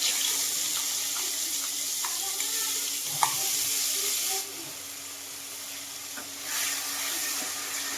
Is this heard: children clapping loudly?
no